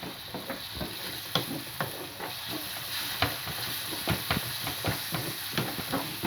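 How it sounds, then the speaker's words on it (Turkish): Tomato paste frying in oil for a village-style bulgur soup, loud continuous sizzling with repeated sharp spoon clicks and scrapes as it is stirred, close and without speech. "Biraz salçamız kavrulsun yağda."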